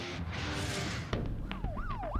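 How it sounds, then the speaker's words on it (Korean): A police patrol car siren wails close by in South Korea during evening rush hour, its pitch sweeping up and down in a repeating yelp over road noise. "퇴근 시간 사이렌 소리를 연신 울리면서 급하게 도로를 가로지르는 순찰차 모습입니다"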